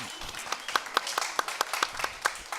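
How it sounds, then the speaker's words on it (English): Scattered applause from a small audience at an evening charity event, a handful of separate claps standing out over a faint background murmur rather than a full ovation. "A big round of applause for Mrs. Rivki Bernstein for being here this"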